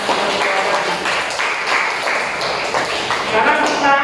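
Applause fills a classroom during a mathematics lesson, a continuous, fairly loud patter of many hands with faint voices mixed in, lasting about four seconds.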